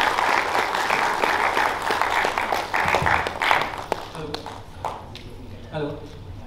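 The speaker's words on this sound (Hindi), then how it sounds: "Please have a big round of applause for him. कृपया तालियों से स्वागत कीजिए सभी।" Applause from an audience welcoming Mr. Abhishek at a skill book program: full, busy clapping for about four seconds that thins into scattered claps as a voice begins speaking near the end.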